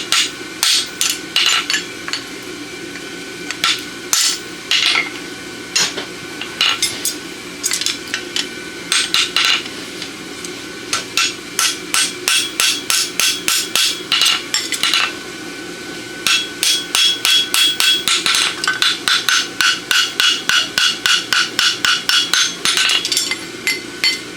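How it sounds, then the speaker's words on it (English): Steady ringing set-hammer strikes on a horseshoe of 1/2 by 3/4 inch steel, struck in rapid rhythmic runs with brief pauses, loud and close, like forging at an anvil. "And I just take this little set hammer and I come in right behind my clip."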